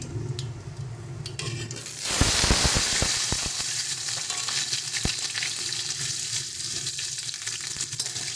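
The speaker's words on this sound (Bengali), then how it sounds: "আলুগুলোকে ভালো করে একটু ভেজে নেব সুন্দর করে" Cut potatoes frying with dry red chillies, panch phoron and bay leaves for a drumstick and bori chorchori, a steady close sizzle that swells loudly partway through as the potatoes hit the oil, with stirring clatters and no talk.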